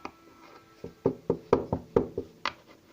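Knuckles rap on a household door in a run of about eight sharp, close knocks, irregular and insistent, ending in one higher-pitched knock, with no talking.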